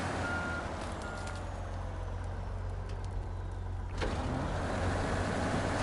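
In the video game Snowrunner, a truck reverses while hitched to a trailer, with a steady engine drone and a faint repeating reversing beep under it, and a short clunk partway through.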